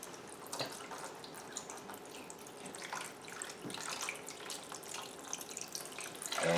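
Water runs from a tap to fill a jar for brewing beer, making a soft, steady splashing rush at close range with small clinks, growing louder at the end.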